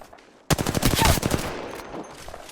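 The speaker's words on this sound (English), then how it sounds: "I'm taking shots. Opening fire." A sudden loud burst of rapid automatic gunfire in the video game Apex Legends, dense fast shots for about a second that fade into a lingering echo, close and forceful.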